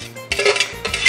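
Steamed sweet potato moved into ice water in a pot, giving two short bursts of metallic clatter and sloshing, close and fairly loud, with no talking.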